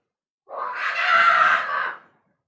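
A person does a vocal imitation of a screaming peacock, the mascot of an arts college: one loud, sustained, strained shriek lasting about a second and a half, with no other talk.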